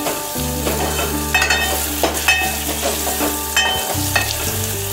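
Tempering for dal with a pinch of turmeric and some coriander leaves sizzles steadily in hot oil, loud and close, with stirring scrapes and a humming tone underneath.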